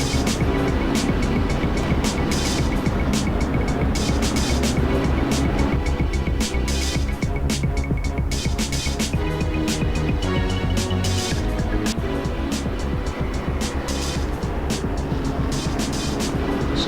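GT3 race cars lap Donington Park in the racing game Assetto Corsa, engines screaming loud and continuous with repeated gear shifts and revs as several cars battle close together, no talk.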